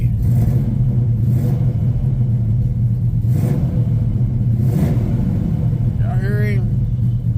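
A 1978 Chevrolet Malibu muscle car with a 383 stroker V8 rumbles deeply and steadily up close, with a few swelling revs and a brief high squeal near the end.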